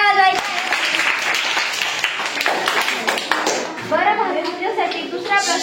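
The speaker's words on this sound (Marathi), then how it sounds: "22 साठी सगळ्यांनी टाळ्या वाजवायच्या" Schoolchildren at a rural primary school quiz clap together in a classroom, a steady patter of many small hands that runs throughout, with children's voices and chatter mixed in.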